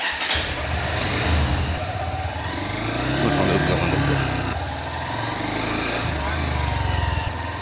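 A Honda Hornet 2.0 motorcycle engine starts up close by and settles into a steady, throbbing idle with a low rumble that swells slightly a few times.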